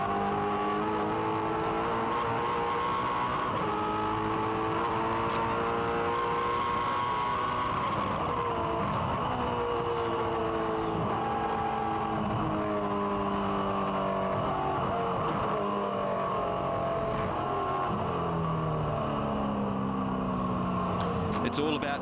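A 2003 V8 Supercar race car engine works through a wet circuit, its note rising and falling in short, uneven revs as the driver feathers the throttle, loud and continuous with a commentator talking over it.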